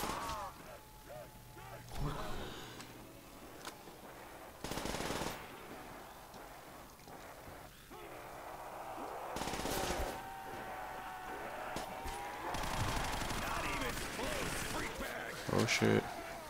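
Bursts of Bizon submachine gun fire in a zombies shooter game, rapid crackling volleys recurring over game sounds and mechanical clatter while a person talks throughout.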